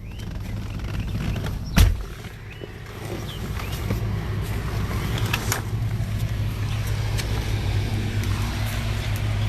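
A car idles steadily after a brief starter burst, its low engine hum running continuously beneath faint rustling inside the parked vehicle outside a bakery.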